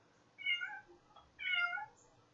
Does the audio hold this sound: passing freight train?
no